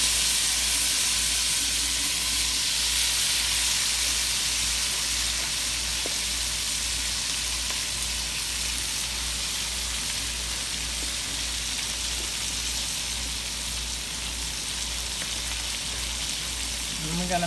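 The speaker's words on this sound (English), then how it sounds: "I'm going to start dropping it into the butter." Rinsed cabbage sizzles steadily as it drops into hot butter, a constant broadband hiss of frying that holds at an even level throughout, with faint bits of talk underneath.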